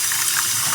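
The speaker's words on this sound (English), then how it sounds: "we're going to put some lukewarm water in there" Lukewarm water pours steadily into a cereal bowl of baking soda, a close, loud, continuous gushing splash over the whole brief moment with no voices.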